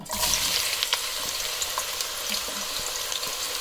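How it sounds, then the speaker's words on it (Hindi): Onions dropped into hot oil and frying, a continuous bright crackling sizzle with occasional stirring clicks, heard close and without any talking. "ये ऑयल यहाँ पे गर्म हो चुका है तो इसमें हम ये प्याज शामिल कर देंगे।"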